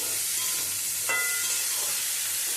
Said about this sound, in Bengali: আলু আর সজনে ডাটাটা দিয়ে নেড়ে ছেড়ে নেব